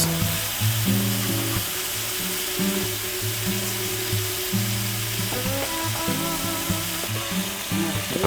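Prawns sizzling and frying in a pan for a coconut prawn dish, a steady loud crackle that runs throughout, with no talking.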